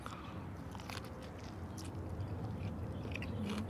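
Close, soft chewing of a bite of regular kimbap, a rice-and-seaweed roll with pickled daikon and carrot: steady moist mastication with faint crunches, no talking.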